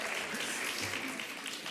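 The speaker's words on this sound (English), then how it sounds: "Let's give the sun a round of applause today." Outdoor audience at a book fair reading giving a round of applause, a short, even wash of clapping heard at moderate volume with no talk over it.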